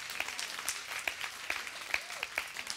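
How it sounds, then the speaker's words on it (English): Scattered applause from a church congregation, a few sharp claps standing out over a thin, fairly quiet wash of clapping. "Give them a round of applause."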